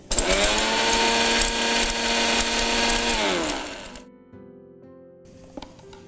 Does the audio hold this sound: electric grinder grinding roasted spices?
yes